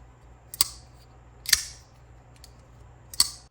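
Three crisp, close clicks of a Chaves 229 folding knife blade flicking open, spaced about a second apart, each sharp and metallic over near silence.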